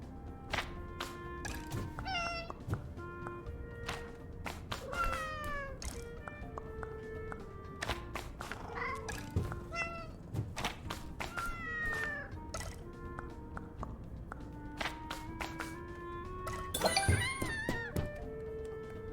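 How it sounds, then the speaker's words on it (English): A cat meows again and again in the game Cat Secretary, the bright cries coming in a steady series over a busy backdrop of soft clinks, taps and game sounds. "My kitty wants to play."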